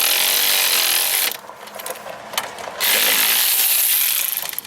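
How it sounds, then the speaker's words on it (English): Ratchet wrench turning bolts on the wheel bearing assembly of a 1998 GMC K1500 truck, a steady close clicking that drops out for a moment midway before resuming at full loudness. "So that's why I have the ratchet to do that too."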